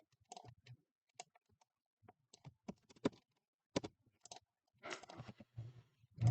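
Sharp clicking keystrokes on a computer keyboard come in irregular bursts with brief pauses, close and moderately loud, with no talking over them.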